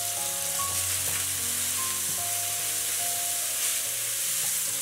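Chopped scallions stir-frying in a wok for a cabbage dish, a dense continuous sizzle with faint clinks of utensils, steady and close, with no speech.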